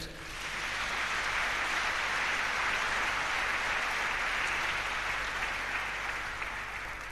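A church congregation applauds together for several seconds, steady sustained clapping at close range from many hands, rising in quickly and holding evenly throughout.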